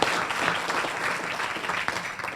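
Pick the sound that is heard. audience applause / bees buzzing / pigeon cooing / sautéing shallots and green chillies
audience applause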